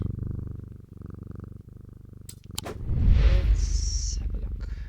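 Close, low purring with a rhythmic pulse runs throughout, swelling louder partway as brief clicks and a soft chime-like tone join in; no one speaks.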